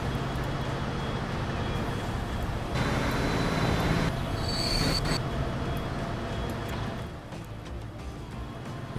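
A train in the Transport Fever video game rumbles steadily with wheel squeal and rail noise, then slows and fades as it comes to a stop at a station.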